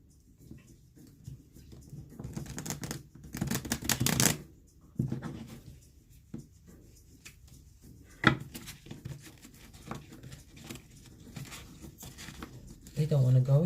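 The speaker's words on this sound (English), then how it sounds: "Let me give them a quick shuffle." Miniature Rider-Waite tarot cards shuffled by hand in a quiet room: soft papery riffles and flicks in short bursts, with one louder, longer flurry midway and scattered lighter card taps around it.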